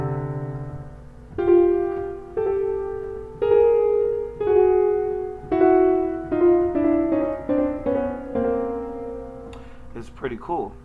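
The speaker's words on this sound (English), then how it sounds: "The next note is your major second. All right, and this is what it sounds like." A major second interval is played as a suspension: clear sustained pitched notes ring one after another, with a lower note resolving upward. Short, louder note attacks repeat in a steady sequence, ending with a brief busy flourish.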